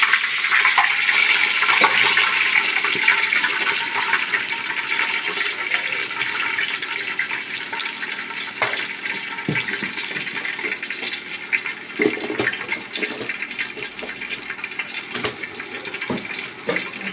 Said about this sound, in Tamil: இதில் தண்ணி ஊற்றிடும்